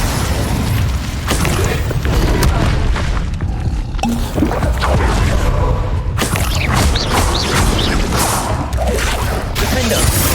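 Fire spell cast during combat in Hogwarts Legacy, a dense roaring burst of booming blasts and crackling effects that runs loud and continuous for the whole stretch, with no talk.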